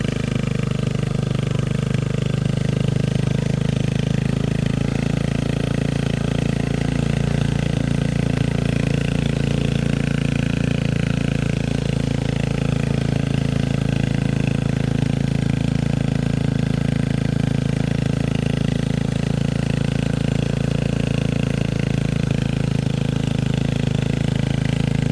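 A motorcycle engine idles steadily and continuously at close range in a flooded residential area, a low constant rumble with no talking over it.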